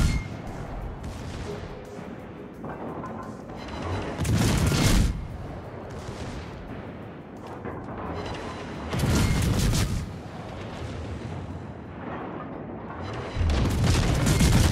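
Video-game cruiser Mainz fires armor-piercing shells in World of Warships, heavy booming salvos arriving in three loud bursts several seconds apart over a constant rumbling battle backdrop.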